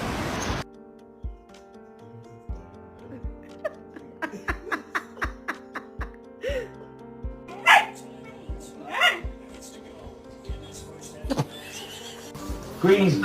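A pet dog barks in a quick cluster of short yelps at home, with people talking and laughing around it and louder bursts of sound toward the end.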